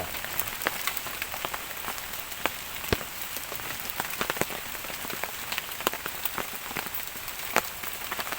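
Heavy rain pours steadily during a storm in a forest, a dense hiss of drops with scattered sharper splats and patters on nearby surfaces, continuous and fairly close throughout.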